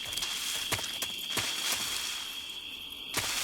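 Footsteps in the stealth video game Metal Gear Solid 3, a string of soft, evenly spaced steps with light crunchy transients over a thin, steady high ambient tone, quiet and close, alone without talk.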